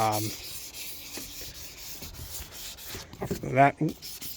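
Primer being sanded smooth by hand on a Holden VY Commodore body, quiet rhythmic rubbing strokes at close range, with brief voices near the start and end.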